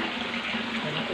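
Water from an aquarium filter pours out in a steady, rushing overflow, close and continuous, with no other sounds over it.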